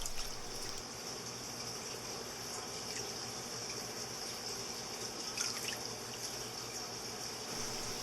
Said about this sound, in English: We can help it along even further by gently adding a few cups of water from the tank